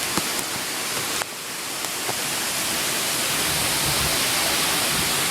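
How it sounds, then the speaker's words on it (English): Heavy rain pours down in a thunderstorm in League City, a dense, loud, continuous roar that swells slightly after a brief lull near the start, with no talking. "I have never seen rain like this, not since Ike."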